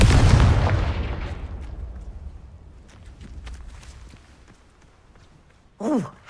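A Confringo blasting spell goes off in Hogwarts Legacy: a loud, close burst of explosive noise at the start that decays over a couple of seconds, with scattered crackles afterwards and a short swooping magical whoosh near the end.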